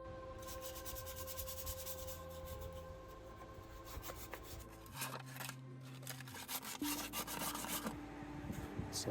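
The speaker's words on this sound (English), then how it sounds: "I'm going to give it a little light sanding." Light hand sanding of raw metal on a cut body opening of a Datsun 280Z, with quick back-and-forth rasping strokes that come in bursts over a continuous background hum, fairly faint and close.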